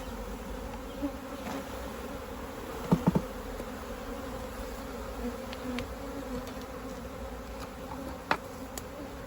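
Steady drone of many honeybees from a captured swarm buzzing in flight around the listener, with a few brief closer passes and faint clicks.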